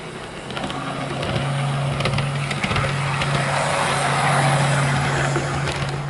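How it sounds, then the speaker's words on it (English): A Heljan Class 128 DPU model train in Royal Mail livery runs steadily, its small motor giving a smooth, even hum with a faint whir and light mechanical clicks throughout, close by and unbroken. "Now we come to the running performance, and straight out the box is a smooth runner"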